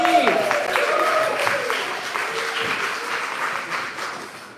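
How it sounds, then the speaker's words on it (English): Applause from a West End musical choir audience, a steady wash of clapping that fades gradually, with a few voices and cheers on top. "A round of applause, please."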